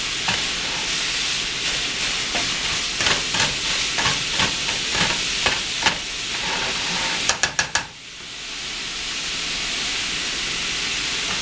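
Sausage browns in a hot pan for a baked spaghetti squash dish, giving a steady, close sizzle. A spatula scrapes and breaks up the meat in a series of sharp strokes, with a quick cluster of clacks before the hiss resumes.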